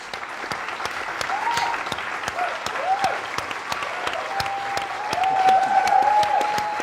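Audience applause at a Q&A event, steady and moderately loud throughout, with faint voices and a brief tonal whistle-like sound mixed into the clapping.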